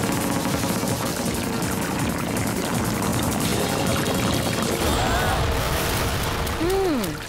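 In an animated cartoon, a torrent of purple water pours and gushes in a loud, continuous rush, joined near the end by swooping, whistling tones.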